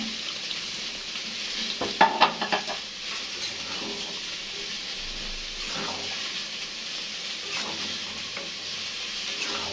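Fried liver is stirred into potatoes cooking in a pan, with a steady sizzling hiss throughout and a quick cluster of spoon-against-pan clatters early on, and no voices.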